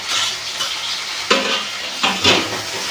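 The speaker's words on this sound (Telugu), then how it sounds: "ఇప్పుడు టమాటా ముక్కలు కూడా వేసేద్దాము" Tomato pieces dropped into masala paste in a hot pan, with close sizzling and frying plus scraping stirs of a spatula against the pan in short bursts.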